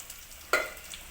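Oil poured into a pressure cooker of rice with cumin seeds and a clove sets off a sudden short sizzle that flares loudly, then fades within half a second.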